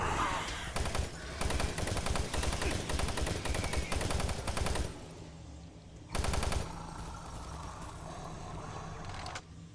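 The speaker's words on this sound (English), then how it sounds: "Alright, we're on our last clip of the fucking machine gun." A machine gun fires in the video game DOOM 3 in dense rapid bursts, loud and close, first a long stream, then a pause and a shorter burst, with a low mechanical hum between them.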